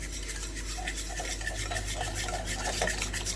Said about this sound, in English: You have to whisk it nicely and properly.